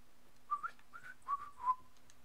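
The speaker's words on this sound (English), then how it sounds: "Whistling. It's what the cool kids do." A person whistles a short melodic phrase of several quick notes, faint and close, in a quiet room with a low background hum.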